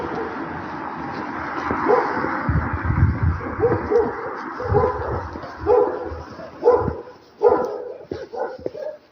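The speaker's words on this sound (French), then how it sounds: "il y a un combat de chiens là-bas." Several dogs fight outdoors in a wooded area, with close, loud barks, yips and snarls in irregular bursts and birds calling faintly behind.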